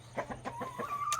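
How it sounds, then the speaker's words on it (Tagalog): Young Rhode Island cross chicks peep and cluck in a quick series of short chirps, close by and fairly soft, with one longer rising call toward the end. "Ito yung ating mga Decal Brown Cross Rhode Island."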